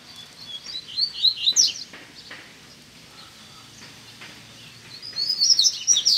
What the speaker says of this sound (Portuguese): O coleiro vem, vem cantando, batendo firme do lado da gaiola.